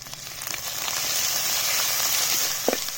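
Tomatoes frying in ginger-garlic paste for a chicken fry biryani, giving a dense, steady sizzle close up with faint crackles and no voices.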